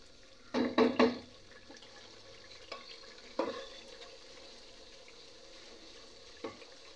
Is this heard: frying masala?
yes